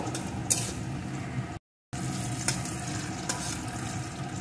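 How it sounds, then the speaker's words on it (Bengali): Chopped tomato is stirred into a frying okra and mustard mixture, a soft steady sizzle with a few light scrapes and clinks, broken by a brief moment of silence, no voices. "এখন দিয়ে দেব এর ভিতরে একটা টমেটো কুচি, আর একটু নাড়িয়ে নেব।"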